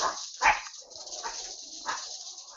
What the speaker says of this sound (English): Excuse my dog's barking in the background there.